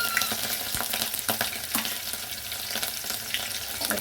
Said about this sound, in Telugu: నూనె వేడైన తర్వాత మిరపకాయలు వేసుకోవాలి.